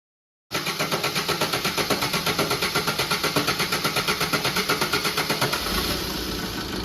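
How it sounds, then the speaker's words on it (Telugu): Diesel car engine, just rebuilt after a full repair, cranks and catches, then runs at a steady, loud rhythmic idle with an even pulsing clatter; no talk. "ఇంజన్ అయితే స్టార్ట్ అయింది"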